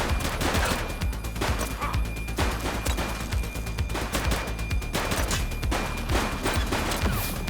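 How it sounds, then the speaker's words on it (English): Sustained gunfire in The Precinct, a police shooter game, with dense overlapping bursts and sharp reports cracking continuously for the full length, loud and close throughout. "Shots fired!"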